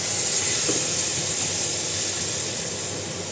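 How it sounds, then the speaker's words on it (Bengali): A few splashes of water hitting fish in a hot pan set off a loud, steady steam hiss and sizzle that carries on unbroken from start to finish. "সামান্য আর একটু জল দিয়ে দিই"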